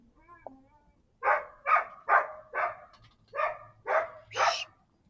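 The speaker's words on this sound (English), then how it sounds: "It's my neighbor's dog." Seven loud, evenly spaced barks from a neighbor's dog come in a steady rhythm after a faint brief sound, with no speech over them.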